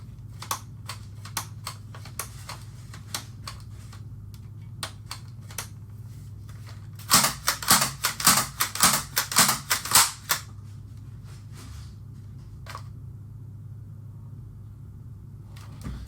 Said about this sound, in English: Let's see if we still got slam fire on this thing.